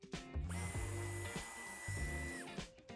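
Power tool driving out a screw on a 2023 BYD Seal bumper during a tow-hitch fitting: a close, loud whirring drill burst with a steady whine, briefly pausing midway, lasting most of three seconds with no talk.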